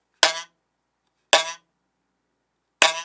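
A split bamboo buzzer is struck three times, each a sharp, bright, buzzy rattle that dies away quickly, with near silence between the hits, close and clear.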